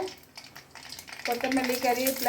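Tempering spices with small onions frying in hot oil for white sambar, where a quiet, faint start gives way to a louder crackling sizzle in the final second.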